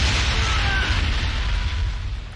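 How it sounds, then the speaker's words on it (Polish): Loud, deep booming explosions from the video game Assassin's Creed 3 fill the scene, with a dense rumbling blast that slowly fades. "ale i tak wybuchy głośne"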